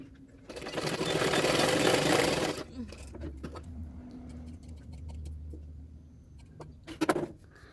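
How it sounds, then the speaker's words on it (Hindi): A sewing machine stitches along the edge of blouse fabric in a loud close burst of a couple of seconds, followed by a low motor hum, soft handling clicks and faint background noise. "उसके किनारे किनारे पे मैं सिलाई कर रही हूँ नीचे"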